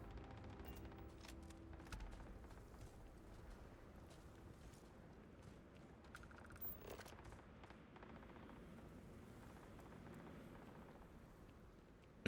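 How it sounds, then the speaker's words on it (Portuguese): Gunfire in the Starfield video game crackles faintly in the distance, a continuous low patter of scattered shots and rumbling reports with a few sharper bursts spread across the stretch. "Eu estou a ouvir tiros."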